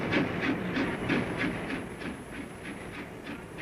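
A goods train runs past Pill halt, a small unstaffed stop in Somerset, with steady rhythmic clickety-clack of wheels over rail joints and a hissing rumble that holds at a moderate distance.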